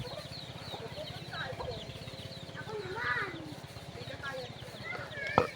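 A duck and chicken crossbreed clucking in a farmyard, with bursts of fowl calls over steady background chatter from nearby people.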